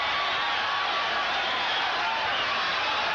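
Boxing arena crowd cheering at a fight between Livingstone Bramble and Edwin Rosario, a loud continuous roar of voices filling the whole stretch without breaks.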